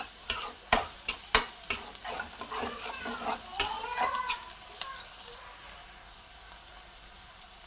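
Sliced onions and a handful of cashews fry in a pan: sharp, close utensil clicks and scrapes come in quick bursts over a bubbling sizzle, which settles into a quieter hiss toward the end.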